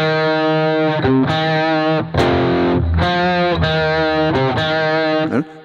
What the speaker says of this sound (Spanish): Aquí hacemos un acorde de fa igual con distorsión.